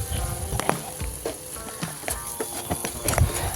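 Half-fried potato pieces added to cooked-down spiced masala for a charapona fish curry, sizzling steadily in the pan with intermittent stirring clicks and scrapes, close and fairly loud.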